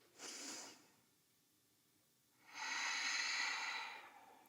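Breathing during a power yoga flow: a short breathy exhale is followed after a quiet pause by a longer, steady, close airy inhale through the nose and mouth.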